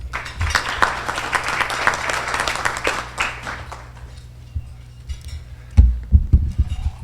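An audience claps for a newly introduced speaker at a civic immigration event, a dense burst of applause that fades out after about four seconds before brief nearby thumps and movement.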